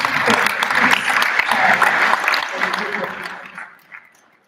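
Sustained applause from an audience at a law week event, dense clapping that holds steady for a few seconds and then tapers off and fades out.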